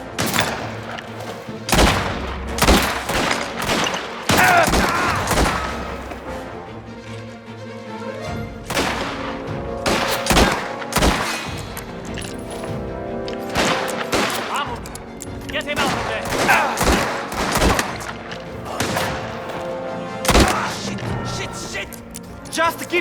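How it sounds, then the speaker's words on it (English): Gunfire in the video game Mafia: The Old Country, loud repeated shots and bursts spread through the clip, mixed with game dialogue and occasional heavy thuds. "Keep shooting!"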